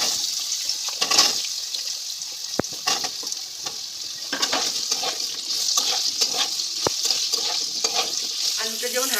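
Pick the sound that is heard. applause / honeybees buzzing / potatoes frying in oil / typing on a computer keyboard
potatoes frying in oil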